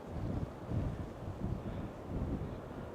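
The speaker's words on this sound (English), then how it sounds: "And it's windy." Strong wind buffeting the microphone at a beach inlet in Astoria, Oregon, a loud low rumbling roar in continuous gusts with no speech.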